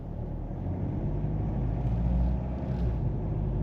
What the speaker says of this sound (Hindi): थोड़ी स्लो स्पीड है, गियर हल्का सा लेट चेंज कर रही है, अंदर जो ना इंजन की आवाज आपको सुनाई देगी